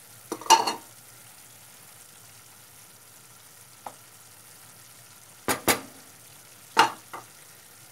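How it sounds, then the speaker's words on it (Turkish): Chopped tomatoes dropped into a pan of frying chicken sauté, with a few sharp sizzling bursts and stirring scrapes over a low steady hiss, close and fairly loud, no voices. "şöyle doğradığım domatesleri ekleyeceğim."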